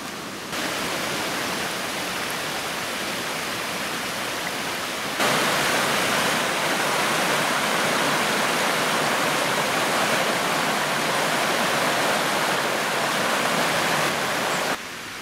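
A mountain stream runs beside an asphalt road, giving a steady, dense rush of water that stays constant throughout, with a slight jump in loudness partway as if moving closer to the flow.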